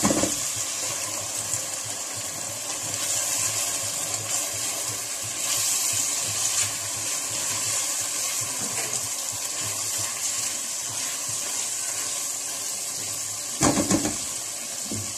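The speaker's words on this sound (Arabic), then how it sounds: "كده شوحنا القوانص، هنزل عليهم بالكبده" Chicken gizzards sautéing in a pan, with liver added, giving a continuous loud hissing sizzle that holds steady throughout and swells briefly near the end.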